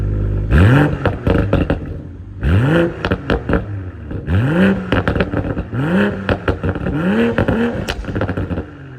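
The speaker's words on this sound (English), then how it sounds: "Check out the sound of this exhaust." A 2023 BMW Z4 M40i's B58 engine revs hard in repeated bursts, each climbing in pitch, with sharp exhaust pops and crackles between the revs, loud and close.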